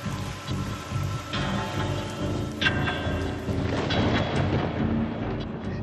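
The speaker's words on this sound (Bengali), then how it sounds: "মঙ্গলবার আলিপুরদুয়ারে অতি ভারী বৃষ্টি হয়।" Very heavy rain falling in Alipurduar, North Bengal, a steady dense wash of downpour with low rumbling, close and continuous throughout, no voices.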